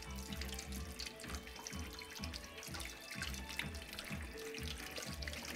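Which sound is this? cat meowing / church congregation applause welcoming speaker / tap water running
tap water running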